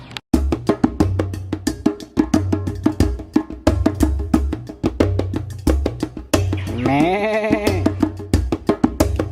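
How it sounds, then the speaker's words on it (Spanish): Dwarf goats at a large Caribbean zoo bleat loudly and repeatedly, close by, with one long wavering bleat standing out near the end over a busy background of rapid clicks and knocks. "aquí dice cabra enana"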